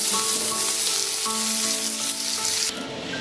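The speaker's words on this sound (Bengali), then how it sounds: "সাদা তেলে পনিরটাকে আমি হালকা ভেজে নেব।" Paneer cubes fry in a little white oil in a kadai, a loud continuous hiss and sizzle with faint tonal scraping from stirring that drops off sharply near the end.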